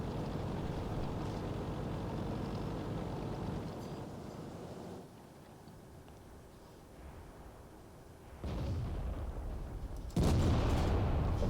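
A tank gun fires in World of Tanks from an SU-100Y tank destroyer: a steady low engine rumble, then two heavy, loud booms close together near the end.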